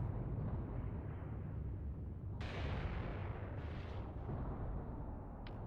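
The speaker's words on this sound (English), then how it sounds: "Oh, big explosion over here. Oh, that's from the mortar team" A mortar explosion in a war video game sounds as a deep, sustained rumble with a sharper blast partway through, followed by lingering booming debris noise.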